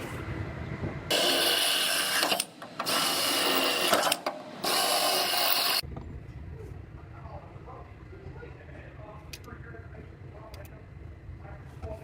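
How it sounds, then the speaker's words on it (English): A power drill whines loudly in three bursts with short pauses, drilling out spot welds in a Toyota's metal body, then stops, leaving quiet shop background noise. "I'm going to drill out these 4 spot welds"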